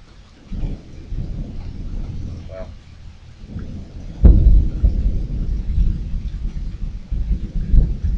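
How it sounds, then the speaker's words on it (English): Rolling thunder rumbles over steady rainfall in Florida, heard from a back porch, with a sharp louder crack midway followed by continued low rumbling and patter. "I'm looking out in the rain and the thunderstorm"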